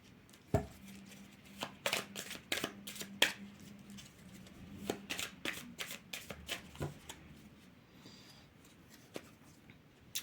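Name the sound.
shuffling tarot cards for a final draw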